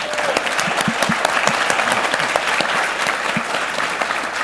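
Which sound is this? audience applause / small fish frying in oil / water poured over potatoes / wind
audience applause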